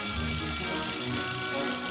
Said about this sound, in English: but you must switch on more alarms.